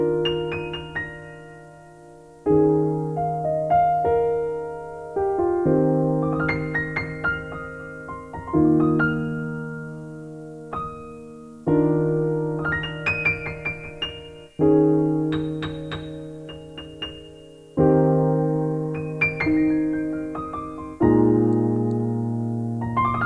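Solo piano playing slow, sustained open chords one after another, each ringing out and fading before the next, spacious and unhurried.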